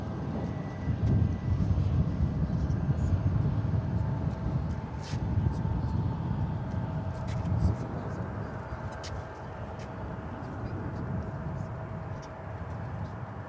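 A UPS Boeing 767 at DFW Airport roars past as a steady, broad jet rumble, loud and sustained before easing slightly, with faint radio chatter and voices underneath.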